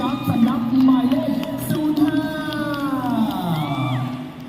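An event audience cheers and whoops loudly, with shouting voices and crowd noise swelling over a steady roar of clapping.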